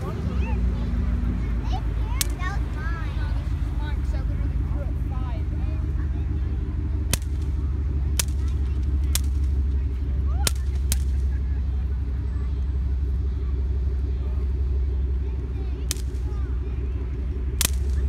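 Fourth of July fireworks go off as sharp, isolated bangs and pops scattered over a steady low rumble, with people talking throughout.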